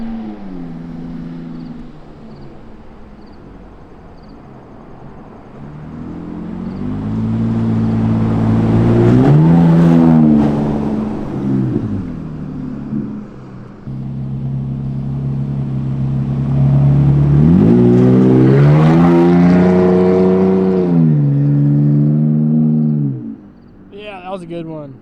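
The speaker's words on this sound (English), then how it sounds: "It's really got that rally truck growl to it." A straight-piped Toyota Tacoma V6 revs twice, its exhaust rising in loud, growling sweeps that climb and fall back to a steady idle rumble, close by and on its own.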